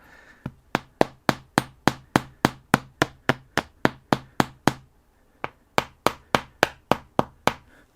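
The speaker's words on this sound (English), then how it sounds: "I'm going to go ahead and give them a little tappy tap" Fasteners tapped into a 1983 Honda XL250R motorcycle seat being re-covered, a quick run of about fourteen sharp, even hammer taps, a short pause, then seven more, close and crisp with no talking.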